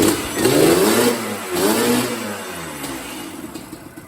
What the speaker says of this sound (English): the bike, as you can see, it idle, but it's just not getting that full, hitting its full RPM